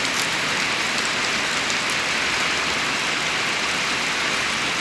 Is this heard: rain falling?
yes